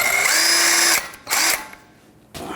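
Power tool spinning off a lug nut from the front wheel of a 2011-2016 Ford F350 Super Duty truck, heard as two loud whirring drill bursts, the first about a second long, then a shorter one, with a third starting at the end.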